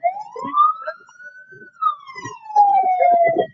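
An ambulance siren at an occupational safety event in Indonesia, a loud single wail rising then falling over a few seconds, with clattering and movement nearby.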